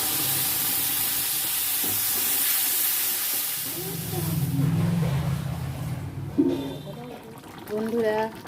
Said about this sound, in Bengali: এই মশলাটা আদা রসুন শুকনো লঙ্কা বাটা আছে, এই তেলের মধ্যে দিয়ে দেবো।